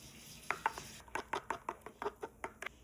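A spoon clinks and scrapes against a small bowl while mixing an onion ring dipping sauce with minced garlic, ground pepper, garlic powder, salt, leeks and lemon; quick irregular taps, close and fairly soft, with no talking.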